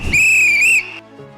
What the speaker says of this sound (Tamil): ஒரு விசில் பார்க்கலாம், அதே விசில் தான்.